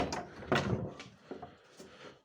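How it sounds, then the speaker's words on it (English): Doors being closed outside a house, giving a few quiet wooden knocks and thuds spread over two seconds, faint and close with no talking. "I must close the doors outside."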